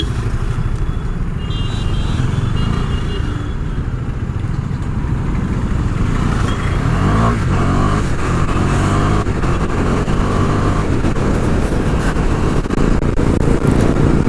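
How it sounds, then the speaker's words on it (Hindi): Heavy traffic jam on a road in Guwahati, Assam: a dense, continuous wash of idling and creeping engines with low rumble throughout, plus a brief thin tonal whine early on. "भाई इधर भी इतना ट्रैफिक जाम।"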